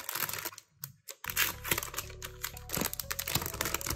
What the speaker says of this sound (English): Now let me unbox it for the first time.